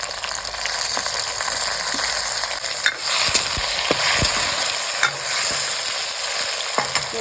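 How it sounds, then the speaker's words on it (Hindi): Tomatoes frying with browned onions in a pan give a steady, close sizzle, broken by repeated scraping stirs, with no talking. "यहाँ पे प्याज ब्राउन हो चुके हैं, और इसमें हम डाल रहे टमाटर,"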